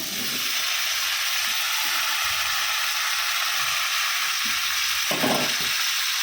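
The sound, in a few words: onion and potatoes frying in pan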